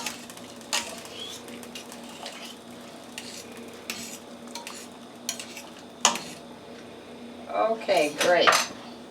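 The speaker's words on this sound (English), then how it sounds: "I want to stir up the pasta." Spaghetti being stirred in a metal pot for a spicy meat sauce, with sharp clanks and scrapes of the utensil against the pot over a low hum, ending in a burst of rapid close stirring.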